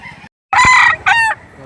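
Chickens at a livestock auction market in Lipa, Batangas, with a rooster's loud close crow followed by a second shorter crow, plus clucking hens before and after a brief silent gap.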